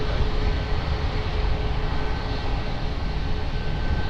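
An airplane takes off from runway 20 at Lisbon Airport, a loud, steady broadband engine roar that holds without a break from start to finish, with no voices.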